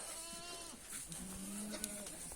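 Goats on a farm bleat at moderate distance, several overlapping calls drifting in and out over steady outdoor background noise, with no talking.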